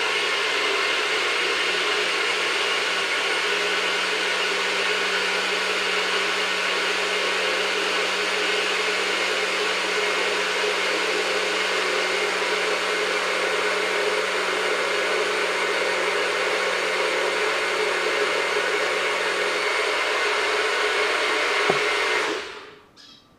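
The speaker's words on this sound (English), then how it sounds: "And then I'm going to blend that all up." Blender running steadily at high speed while blending a vegan salad dressing for pasta salad, a loud continuous whirring drone that holds nearly constant, then cuts off abruptly near the end.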